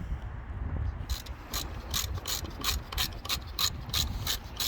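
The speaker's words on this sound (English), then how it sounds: "Undo the 4 screws and remove the ignition coil." Ratchet clicking in a quick, regular series while undoing the screws on the ignition coil of a MINI R50 engine, close and fairly faint over a low background hum.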